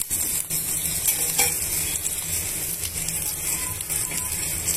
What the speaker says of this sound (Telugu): ఉల్లిపాయ ముక్కలు, పచ్చిమిరపకాయ ముక్కలు బాగా వేగిన తర్వాత